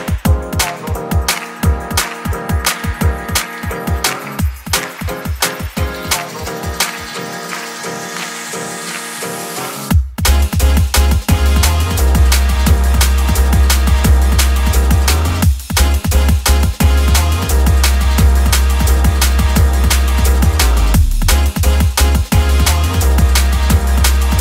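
An electronic track plays loud, opening with sparse pulsing beats and a rising sweep, then a heavy bass-driven groove kicks in and drives on steadily.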